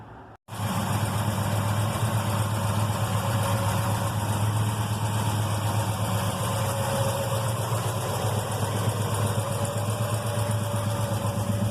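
A 1971 Chevrolet C10 with a 402 big block V8 cranks and catches after a brief pause, then settles into a loud, steady, close rumbling idle that holds without letup.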